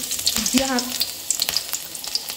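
Chopped garlic hits hot oil in a home kitchen pan with a loud, close crackling sizzle that holds steady throughout, broken by a few sharp spits and a brief clatter near the start.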